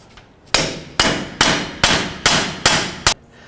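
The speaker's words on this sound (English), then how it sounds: "tap this socket, which will push the stud and push the hub out of the knuckle" A hammer strikes a socket set against a wheel hub stud on a 2007-2017 Jeep Wrangler, driving the hub out of the steering knuckle: seven sharp metallic blows in an even, steady rhythm, close and loud with no talk.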